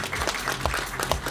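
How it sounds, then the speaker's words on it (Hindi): Crowd applause at a film teaser launch event, continuous dense clapping with scattered sharper claps standing out, loud and close. "एक बार जोरदार ताली होनी चाहिए"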